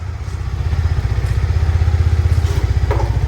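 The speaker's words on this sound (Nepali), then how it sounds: "ल अब साउन्ड सुन्न सक्नुहुन्छ तपाईँहरूले हाम्रो बाइकको" A motorcycle engine idles close by, a loud, steady low thudding putter with a regular pulsing rhythm that firms up slightly toward the end, with no voices over it.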